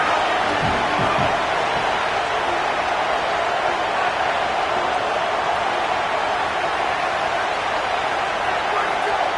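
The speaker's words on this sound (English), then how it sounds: "with this place rocking, the crowd forces a false start" Dense, steady roar of a packed football stadium crowd on a third-down play, a broad continuous wash of noise that stays loud and unbroken throughout with no pauses.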